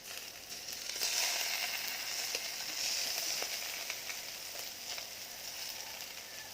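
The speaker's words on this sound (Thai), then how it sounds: "เดี๋ยวเราจะเอา เนื้อหมูลงอีก ให้ฟังเสียงนะว่ามันร้อนแรงแค่ไหน" Pork sizzling and frying on a hot Thai charcoal grill pan, a steady loud hiss with crackling throughout, no voices.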